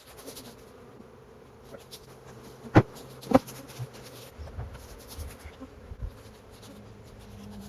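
Honeybees from a small swarm buzz faintly inside a hive box, a low steady hum under a few louder knocks and handling sounds.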